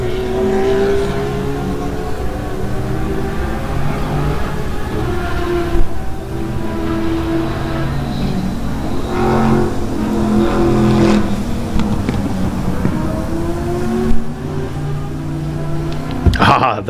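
A GT race car, an Opel, drives past on the Buttonwillow circuit during a racing session, its engine rising and falling as it passes, heard steadily beneath a commentator's continuous talk.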